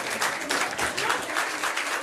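An audience at a pub trivia quiz night bursts into brisk, steady clapping, a short burst of applause from a moderately sized crowd.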